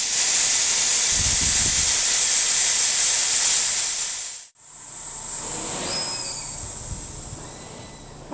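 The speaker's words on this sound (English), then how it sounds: "when we turn the disconnect valve off, it not only blocks the incoming air," Compressed air hisses out of a Norfield 4000 machine through its disconnect valve. It is a loud, steady rush that cuts off sharply, then returns and slowly fades, with no one talking.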